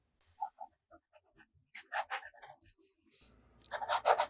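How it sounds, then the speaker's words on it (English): Fountain pen nib scratching across Office Depot reporter's notebook paper, loaded with De Atramentis brown ink: quiet soft strokes at first, then denser, louder rasping bursts of writing. "The next writing sample is done in an Office Depot reporter's notebook."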